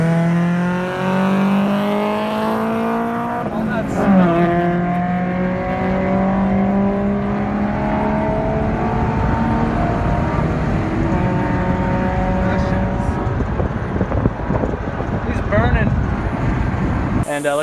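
Cars racing on a highway, recorded on a phone, engines droning with long rising and falling revs through gear changes, loud and close, with people talking over much of it.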